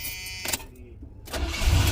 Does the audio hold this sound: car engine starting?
yes